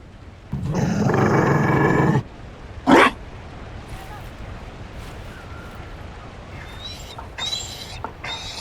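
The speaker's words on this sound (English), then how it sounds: "You found a dog. They don't breed Mabari in Orlais." A Mabari war dog in the video game Dragon Age Inquisition lets out a loud, rough growl that lasts over a second, followed by a short sharp burst, with quieter background ambience afterward.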